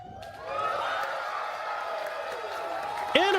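Crowd cheering for a dance cover performance at the Anime NYC convention, a steady wash of audience noise with whoops and a sharp whistle near the end.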